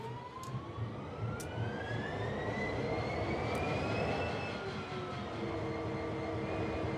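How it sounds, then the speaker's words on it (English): A diesel locomotive engine in Train Sim World starts up, a low rumbling drone with a rising whine sweeping upward, steady and fairly loud with no talk. "That's it, the engine's up and running"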